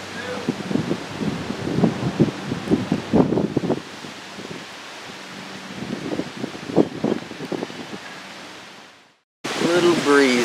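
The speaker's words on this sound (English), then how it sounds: "Little breezy." Gusty wind buffets the microphone outdoors near a lighthouse on St Simons Island, with rough bursts of rumbling noise rising and falling, a lull, then a louder burst where a voice speaks.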